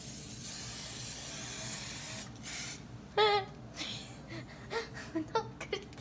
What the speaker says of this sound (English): That was a lot of spray.